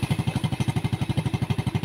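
Motorcycle engine running while a battery fault is diagnosed, a close, steady idle thumping in a quick even rhythm of about ten pulses per second, alone without talk.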